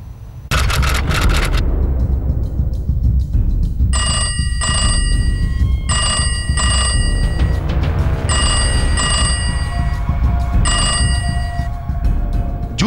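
An old-style telephone bell rings in repeated double bursts, loud and close, preceded by a brief clatter and laid over a steady low rumble, a dramatized call effect in a crime news report.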